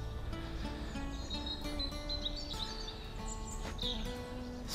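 A blackbird and other wild birds call outdoors, thin high chirps and short whistled phrases coming and going over a continuous low background hum.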